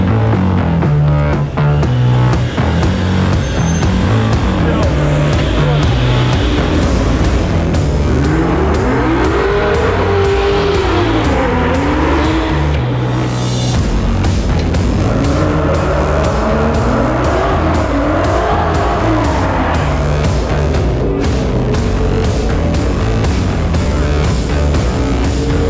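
Camaro race car launching hard in a drag race, engine roaring loud and continuous with rising and falling revs, a brief break, then revving again over a long stretch.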